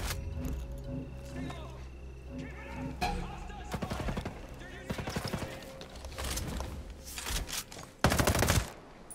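Gunfire from the video game Ghost Recon Breakpoint: sharp rapid bursts and single cracking shots, some in quick automatic volleys, loud and close, with other in-game sounds.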